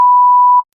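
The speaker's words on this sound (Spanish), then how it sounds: "Ahí le pones un pitido" A single steady censor beep, a pure electronic tone held for just over half a second before cutting off cleanly, loud and alone.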